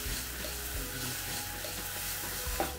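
Edam cheese melts in a clay pan, giving a steady soft sizzle and crackle close by, with a faint scrape of stirring near the end.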